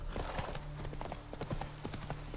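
Hooves of the horse Roach in The Witcher 3 clop in a quick galloping rhythm, close and steady over a low game hum, without a clear neigh.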